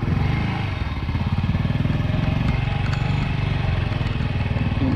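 A motorbike carries riders along a rough rural track, its engine chugging steadily and close by with a dense, low pulsing throb and some clattering throughout.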